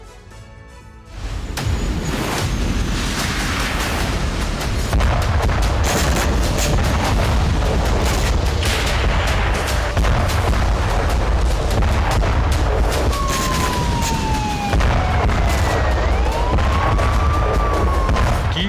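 Continuous roar of artillery fire and explosions from Russian attacks in a war zone, dense booming and rumbling throughout with sharp bangs and a rising siren-like whine near the end, loud and sustained with no speech.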